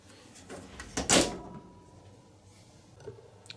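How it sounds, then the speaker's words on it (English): A 1982 Bosch T475 electronic dryer door pops open with a short click and thud after a button push, one brief burst followed by quiet room tone. "Obviously, to open the door, we push this blue button."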